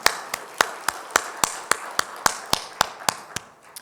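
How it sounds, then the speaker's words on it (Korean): Steady rhythmic clapping rings out during a church service, about a dozen sharp evenly spaced claps in a reverberant hall, fading at the end, with no talk over it. "우리를 인도하신 하나님께 다시 한번 영광의 박수 올려드릴까요?"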